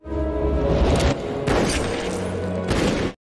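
Booming gunfire bursts in an action film soundtrack, several heavy blasts over a dense, continuous rumble with whooshing, loud and chaotic throughout.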